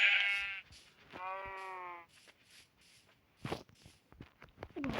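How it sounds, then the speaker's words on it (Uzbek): Sheep bleat loudly and close by in two long wavering calls at the start, followed by scattered rustling, footsteps and faint movement sounds outdoors. "Uning ustida qo'ylar ham bor ekan."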